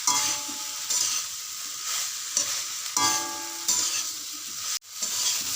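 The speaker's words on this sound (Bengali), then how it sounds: "এবার সবগুলোকে একসঙ্গে ভালো করে এখন কষিয়ে নেব" Soybean chunks and potatoes being stir-fried with spices in a pan make a loud sizzle broken by regular scraping stirring strokes, with a brief clatter near the end.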